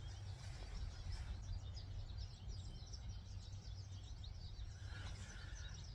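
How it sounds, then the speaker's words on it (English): Goldfinches singing outdoors on a rainy day, faint high chirps and twittering calls scattered through the clip, distant and soft against a steady low background rumble. "Can you hear the birds? Those are the goldfinches."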